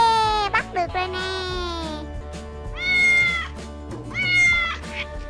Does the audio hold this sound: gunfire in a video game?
no